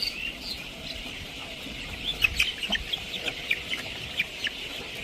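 Chickens on a poultry farm, including white birds, give short scattered clucks over a steady background hum.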